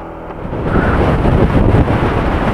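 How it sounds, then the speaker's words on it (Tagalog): Strong gusts of wind buffet the microphone near the Pacific coast at Dingalan, a loud roaring rumble that swells after a brief calmer start and stays heavy throughout. "malakas ang hangin."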